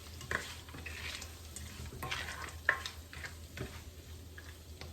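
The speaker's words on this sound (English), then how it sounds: "Mix it." A spoon stirs sago khichadi in a pan over low heat, soft scraping strokes and light sizzling close up, with a couple of sharper clinks against the pan.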